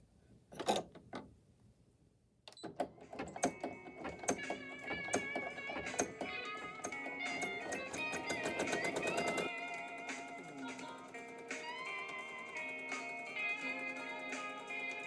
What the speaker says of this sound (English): now it's going to stitch the tack down and the satin stitches for the